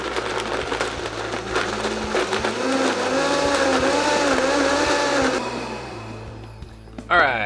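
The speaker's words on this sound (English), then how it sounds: "Let's turn on the blender." A blender mixing a tamarind and cognac cocktail runs loudly with a rising, whirring motor pitch for several seconds, then winds down near the end.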